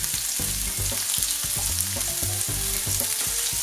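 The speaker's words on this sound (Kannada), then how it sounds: "ಈರುಳ್ಳಿ ಒಂದು ಕೆಂಪು ಬಣ್ಣ ಬರುವವರೆಗೆ ಫ್ರೈ ಮಾಡ್ಕೊಳ್ಬೇಕಾಗ್ತದೆ." Chopped onion frying in oil in a pan, a continuous close sizzle and crackle with soft stirring scrapes repeating throughout.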